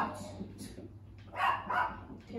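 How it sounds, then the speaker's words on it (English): A dog barks a few times nearby in short sharp bursts, with faint voices in the background. "can you please stop barking?"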